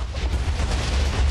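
A large stack of TNT detonates in Minecraft, a loud, close, rumbling blast with crackling debris that fills the whole moment without any talking.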